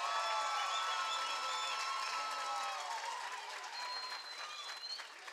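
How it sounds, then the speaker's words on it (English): Sustained applause and cheering from a boxing crowd after three rounds of a bout between two fighters, a dense steady wash of clapping with whistles and shouts, holding loud before thinning slightly toward the end. "let's give both fighters a big round of applause"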